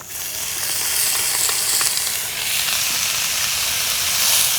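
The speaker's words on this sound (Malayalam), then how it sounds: "ചെറിയ ഉള്ളിയും വറ്റൽമുളക് കറിവേപ്പിലയും അതിട്ടിട്ട് മൂപ്പിക്കുക" Small onions, dried chillies and curry leaves fry in a pan of hot oil, giving a steady, dense sizzle that holds at an even loudness throughout with no voices.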